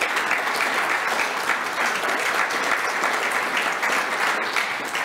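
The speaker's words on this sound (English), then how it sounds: "Please give him a big clap." A dense, loud wave of applause fills the hall at a handover ceremony, sustained and even throughout with no voices breaking through.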